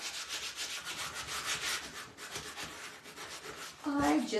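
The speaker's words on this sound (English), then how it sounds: "I just love sanding" Wood being hand-sanded for a small DIY bunny hanger, a steady rasping rub that swells and fades in repeated strokes, fairly close, with a brief voice near the end.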